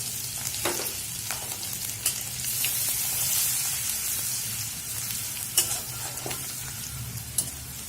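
A steady sizzle of chopped ginger and green chilli frying in a pan, broken by a few sharp scraping strokes of stirring, fairly close and without voices.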